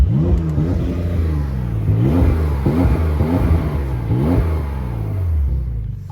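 A Porsche 911 Carrera GTS engine revs hard repeatedly in neutral, rising and falling in pitch with loud growling bursts, close by and continuous.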